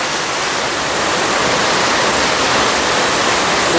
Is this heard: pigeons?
no